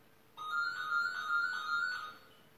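A phone rings once during a call test: a short, faint electronic ringtone with a warbling pattern that lasts under two seconds, then stops into quiet.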